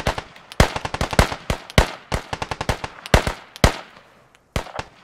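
Gunfire in the Squad video game: sharp rifle shots fired in rapid bursts and single cracks, some close and loud, others slightly more distant, with short pauses between volleys.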